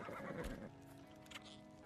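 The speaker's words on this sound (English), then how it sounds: "What about the horse?" A horse in the video game Ark Survival Ascended gives one whinnying neigh up close, followed by faint game ambience and soft clopping.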